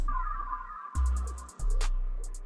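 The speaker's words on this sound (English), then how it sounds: "The second last accent I have here is this malfunction." Malfunction accent sample in FL Studio: a glitchy electronic texture with a droning hum and deep sub-bass swells, cut by an abrupt gap. Rapid stuttering high clicks and a bright burst follow, heard alone and loud.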